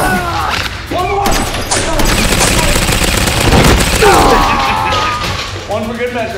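Nerf blasters fired repeatedly during an indoor family foam-dart battle, a dense rapid burst of thumping shots with excited voices shouting before and after the barrage.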